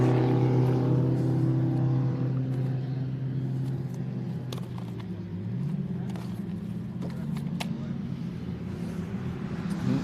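750 Motor Club race cars rumble past on a circuit track in a steady, droning pass, with engine pitch shifting as they go by and commentary talk underneath.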